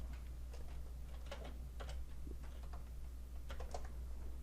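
Someone types on a computer keyboard, giving short irregular clusters of quiet key clicks over a low steady hum, close up and with no talking.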